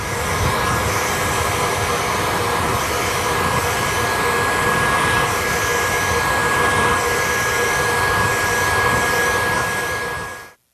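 A hair dryer blows a continuous, loud, even airy roar while drying a mustache, holding steady for about ten seconds before switching off abruptly at the end, with no talking.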